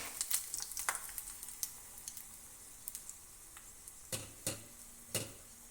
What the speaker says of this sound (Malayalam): കടുക് ഒന്ന് പൊട്ടി വരുമ്പോഴേക്കും